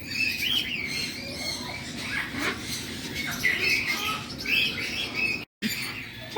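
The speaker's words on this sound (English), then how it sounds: "Parakeets." Parakeets in a bird store chirp and squawk in a busy, continuous chorus of high, twittering calls over a dense, noisy room background, with a brief dropout near the end.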